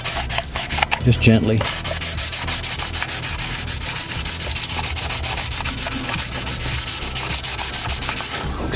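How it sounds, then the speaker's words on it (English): Steady rhythmic rubbing of a sanding block over the lubricated head surface of a 2018 Hyundai Accent engine block, close and continuous with regular back-and-forth strokes, a brief voice speaking early on. "you're going to start sanding"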